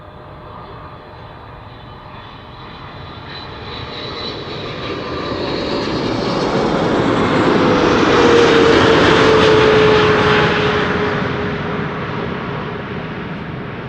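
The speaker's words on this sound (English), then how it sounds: "It is an 11-year-old airplane, first flight May 2013." An 11-year-old airliner, first flown in May 2013, arrives at Amsterdam Schiphol Airport. Its loud engine roar and whine build, peak overhead and then fade as it passes.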